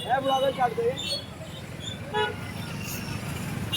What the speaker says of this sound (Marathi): इकडे फुल ट्रॅफिक